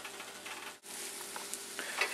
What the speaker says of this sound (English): Start to hear them sizzle a little